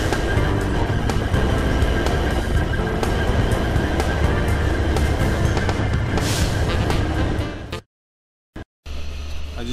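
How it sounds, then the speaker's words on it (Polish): An Indian sleeper train travels from Mumbai to Goa, its steady broadband rumble and rattling wheels filling the carriage continuously before cutting out abruptly near the end, then briefly resuming. "będziemy jechać dzisiaj pociągiem"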